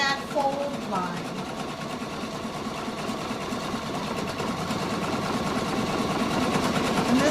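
Pfaff Quilt Expression 720 sewing machine stitching along a fold line: a fast, steady, close mechanical chatter that runs throughout, with a brief voice near the start.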